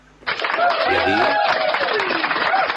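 Audience applause breaks out after a brief quiet start, a dense, steady wash of clapping hands that stays loud and sustained to the end, with some crowd voices mixed in.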